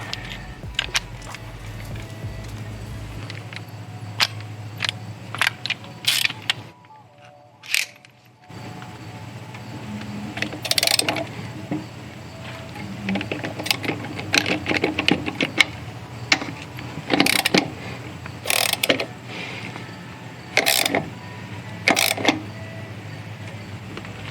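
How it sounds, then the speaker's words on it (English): An extending lug wrench tightening lug nuts on a Jeep wheel, scattered sharp metallic clicks and clanks over a low background rumble, irregular and close, with a brief quiet gap partway through. "now that we've gone ahead and loosened up these lug nuts, I'm gonna go ahead and tighten them back up"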